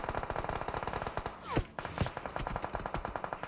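Rapid automatic gunfire from a PUBG match, dense bursts of closely spaced shots rattling continuously, with a single louder close shot cutting through the middle of the sustained fire.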